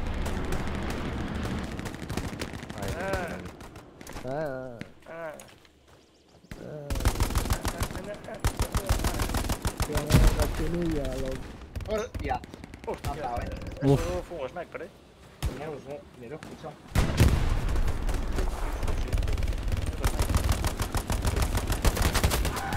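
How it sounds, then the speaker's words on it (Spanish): Artillery and gunfire in the war game No Man's Land, with long stretches of rattling automatic fire and heavy booming blasts that come and go, mixed with frequent voices talking over the battle. "La artillería, tío."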